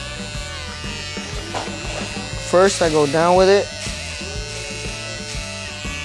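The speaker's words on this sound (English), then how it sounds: "I'm going with my shaver." An electric shaver buzzes steadily during a mid drop fade haircut, rising to a louder, closer buzz for about a second midway while someone talks over it.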